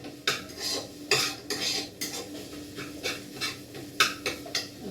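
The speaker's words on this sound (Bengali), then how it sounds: "এবার এতে দিয়ে দেবো হচ্ছে একটু রসুন আর একটু আদা। এটা একটু ভালোভাবে সাঁতলে নিতে হবে" Garlic and ginger sauté with fried onion and tomato in a pan as a metal utensil stirs, clinking and scraping in repeated strokes at moderate volume, with no talk.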